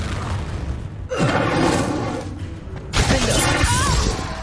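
Confringo spell explosions in Hogwarts Legacy on PS5: two loud booming bursts, each with a whooshing, crackling tail, about two seconds apart, over a busy game ambience.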